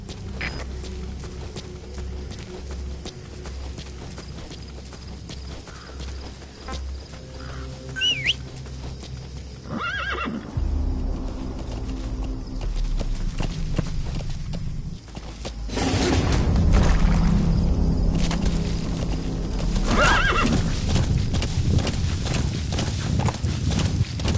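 Horse hooves clip-clop and a horse neighs in the video game Metal Gear Solid V, with steady hoofbeats that grow louder and busier in the second half, along with birdsong and game ambience.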